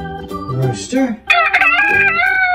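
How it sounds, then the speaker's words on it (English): A rooster crows loudly and close by, a long, strained call that rises and wavers before trailing off. "Rooster."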